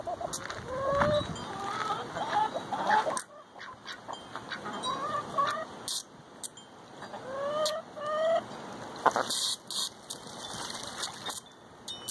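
Chickens cluck and murmur on and off at close range, with scattered scratching and rustling between the bursts of clucking.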